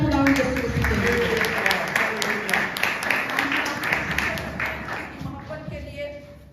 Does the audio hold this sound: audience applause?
yes